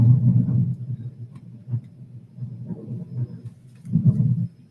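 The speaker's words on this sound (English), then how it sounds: "That's thunder." Low rolling thunder from a lightning storm outside rumbles in slow swelling waves, fading and building again, fairly loud and muffled, with no voices.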